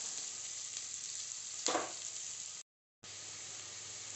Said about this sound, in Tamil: கொஞ்சம் கருவேப்பிலை, கொஞ்சம் வெங்காயம் வதங்கட்டும்.